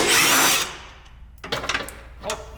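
A power tool whirs loudly on a brake bracket bolt of a Toyota Tacoma, a short burst that stops, followed by a couple of quick clinks and a brief second buzz, with no one speaking.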